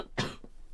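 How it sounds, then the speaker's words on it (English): A single sharp cough bursts out near the mic, followed by a fainter throat-clearing catch, in a quiet indoor setting during a watercolor painting session. "Excuse me, I'm going to cough."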